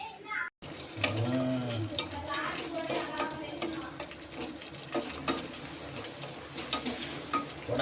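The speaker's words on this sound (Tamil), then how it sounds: "வெங்காயம் போட்டு வதக்குவாங்க" Chopped onions sizzle and fry in a hot pan in a kitchen, a steady crackle with occasional stirring clatter, while a voice speaks over it.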